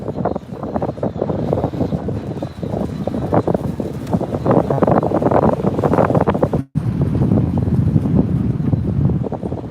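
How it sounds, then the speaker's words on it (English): Strong wind buffets the microphone outdoors in Akihabara, Tokyo, a loud continuous rumbling roar with one brief dropout partway through and no clear speech. "We've been dealing with this wind all day, if you can hear me."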